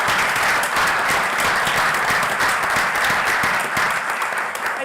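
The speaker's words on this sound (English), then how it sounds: "We'll give the whole group a round of applause" A room full of people at a city common council meeting claps in a dense, steady round of applause that holds at full loudness throughout, with no talking over it.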